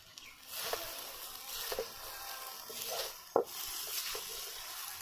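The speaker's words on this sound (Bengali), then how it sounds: "চিনিটা দিয়ে এটাকে ভালো করে আবার কষে নিতে হবে।" Sago pearls already fried are stirred with added sugar in a pan, giving soft scraping and stirring strokes with a faint sizzle, one sharper knock near the middle, and no talk.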